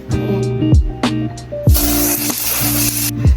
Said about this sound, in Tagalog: So dahil mainit masyado, so mag-spray ako ng sun protection, UV spray, sunpad.